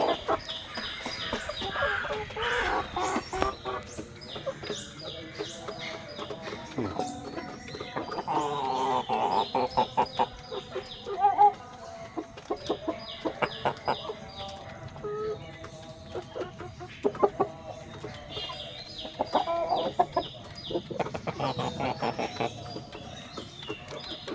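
Chickens cluck and call in a backyard coop that holds roosters, with irregular close clucks and squawks and a brief sharp cry, while someone talks intermittently.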